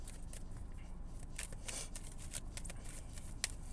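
Tarot cards being shuffled, a soft continuous riffling and flicking of card stock with quick crisp slaps, close and quiet with no talking.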